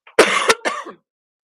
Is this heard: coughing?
yes